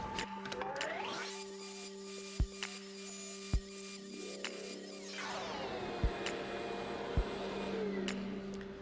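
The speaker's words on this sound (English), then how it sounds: "we're cutting a shallow dado groove, 1/8 of an inch deep" A table saw fitted with a dado stack hums steadily while cutting a shallow 1/8-inch dado groove in a wooden lamp piece, a sustained whine that changes tone as the blade bites, punctuated by a few sharp clicks.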